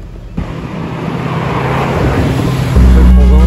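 A McLaren Senna supercar on the street in Monaco, its engine roaring loudly and building steadily, rising into a deep, heavy rumble at the end, close by, with traffic noise around it.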